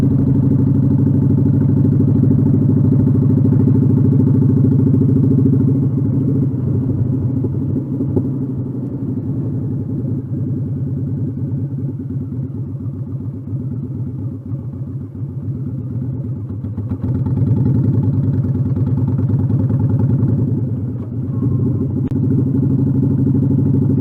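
Motorcycle engine held steady in third gear on a night ride, a loud continuous close rumble that swells and dips slightly over the run with no talk.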